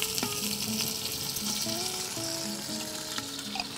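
Garlic sizzling in oil for mardoud, a close, steady crackling hiss with soft faint tones in the background, fairly quiet and unbroken.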